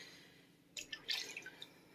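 One ounce of endoscope channel flush liquid is dumped into a basin of water, a short burst of splashing and dripping that starts after a quiet moment and trails off in a few scattered drops.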